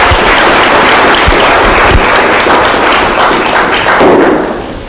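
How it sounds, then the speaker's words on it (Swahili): Sustained audience applause for a panel at a mining, oil and gas forum, loud and steady with a few heavy thumps early on, tapering slightly at the end. "please makofi kwao mpaka waweze kukaa"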